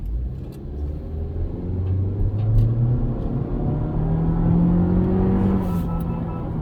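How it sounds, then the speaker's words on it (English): A 2022 Honda Civic EX with a turbocharged 1.5-litre engine and CVT hums and rises as it accelerates, a steady low roar heard from inside with the pitch climbing gradually. "I'm gonna step on it again"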